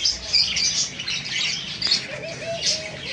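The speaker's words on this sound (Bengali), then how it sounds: "টিয়া পাখি।" A parakeet at a bird shop gives sharp, repeated squawks and chirps, loud and close, with a few higher calls standing out over a busy background and no talking.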